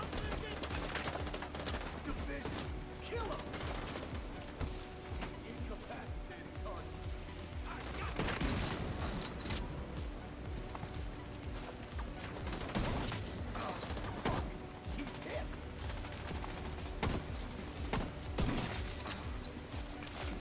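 Rifle gunfire in The Division 2, dense rapid bursts of shots and impacts running continuously at a fairly even level, mixed with game effects and a voice talking.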